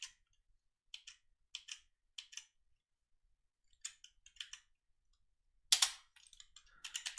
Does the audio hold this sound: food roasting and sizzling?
no